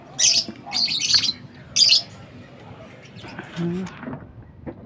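African lovebirds in an aviary giving sharp, high squawks and chirps in short bursts, close by, with a person talking in between.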